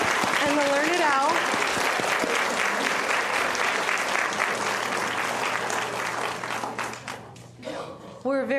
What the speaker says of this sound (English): let's give a big round of applause to Kate and the Learned Owl.